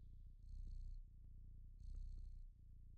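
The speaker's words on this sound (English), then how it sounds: "Do you hear the purring?" Cat purring in the game Stray, soft close rumbling purr in a slow rhythm with two louder swells, quiet and without talk.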